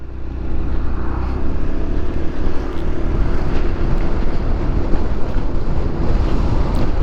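Strong wind roars steadily into the microphone for the whole stretch on an overcast afternoon, a dense, constant rumble with no voices.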